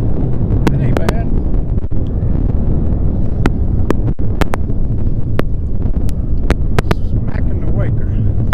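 Strong wind buffeting the microphone on a fishing boat out on open water on a cloudy day, a loud continuous roaring rumble with sharp clicks and knocks scattered through it, and a voice speaking under the noise.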